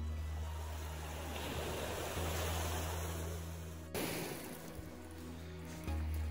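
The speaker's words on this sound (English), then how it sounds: "Like the waves are just touching so far up." Small waves lap and wash against the Lake Superior shore in a steady close rush, with a low constant hum underneath and no talking.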